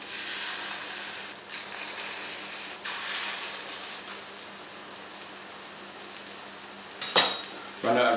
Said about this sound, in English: Looking for that nice sizzle.